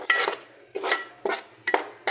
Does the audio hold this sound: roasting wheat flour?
yes